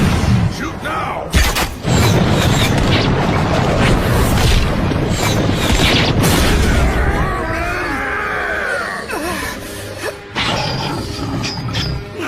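An anime battle scene with booming explosions, whooshes and shattering impacts, loud and dense for the first several seconds, then a swirl of sweeping effects and screams as the clash continues.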